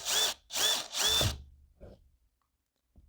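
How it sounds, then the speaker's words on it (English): A power drill bores into a wall for handrail drywall anchors in three short, loud whirring bursts, followed by a couple of faint knocks and then quiet. "drill a little"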